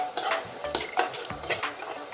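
Spice paste with turmeric and coriander powder frying in a pan, stirred with a spoon: repeated scraping strokes and knocks over a bright continuous sizzle, close up and fairly loud, with no talking.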